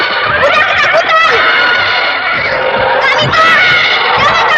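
A frightened horse whinnies loudly and close, its shrill neighs rising in several bursts over a rough background.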